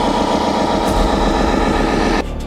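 A home-built robotic vehicle's driving engine runs as a steady, close mechanical drone with even, dense texture, holding level for about two seconds before dropping slightly near the end.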